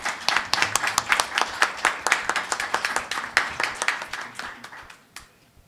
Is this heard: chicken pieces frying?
no